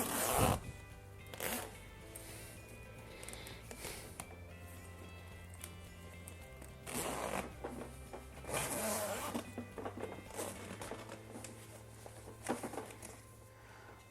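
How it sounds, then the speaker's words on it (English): A zipper being pulled in several separate runs, brisk rasping strokes with pauses and some handling rustle between them. "let's get our zipper started"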